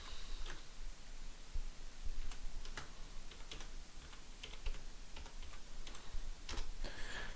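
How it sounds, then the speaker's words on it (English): Quiet, sparse keyboard clicks tap out at an uneven pace, one key at a time as if pecked with a single finger, against faint background hiss. "Typing with one finger because, you know, it just got to be done."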